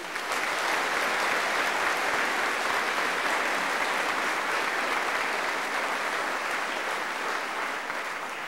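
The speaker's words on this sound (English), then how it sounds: "Please honor all of our award winners with your applause at this time." Sustained applause from a large audience at a high school graduation ceremony, steady dense clapping filling the hall for the whole stretch without a break.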